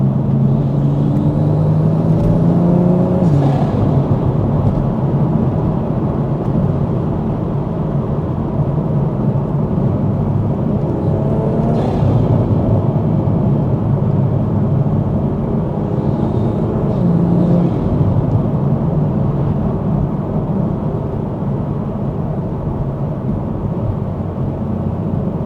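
A Toyota GR Supra with a titanium exhaust and an ARMASPEED intake drives through a village at night in the UK. It gives a steady, loud engine and exhaust drone with road rumble throughout, and no voices.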